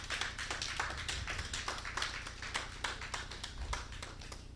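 An audience at a conference keynote claps to welcome the speaker, a steady rapid patter of many hands at moderate volume, with no talking.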